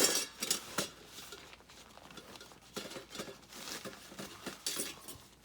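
A camping cook kit being handled at close range, with light metallic clinks, rattles and rustling in irregular bursts and no talking.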